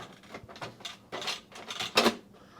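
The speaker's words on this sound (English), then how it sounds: "So let's just shut that door up." A laser printer's door is pushed shut, giving a cluster of plastic clicks and clunks that builds to one sharp, louder latch snap near the end, close by with no talking.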